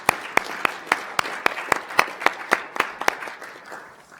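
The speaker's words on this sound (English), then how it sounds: "I think we should give them a round of applause for all that they've accomplished." A small audience at a conference applauds with sparse, evenly spaced claps that ring out clearly and taper off over a few seconds.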